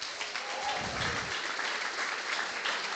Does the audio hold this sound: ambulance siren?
no